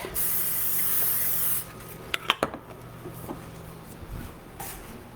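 A single steady hiss of cooking spray into a casserole pan lasts about a second and a half, followed by a few clicks and light handling sounds, close by.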